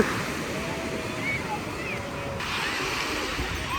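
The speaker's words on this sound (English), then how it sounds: "Oh, small wave right there." Ocean waves wash in at Santa Cruz beach in California, a steady broad surf rush with wind noise on the microphone that holds at an even level throughout.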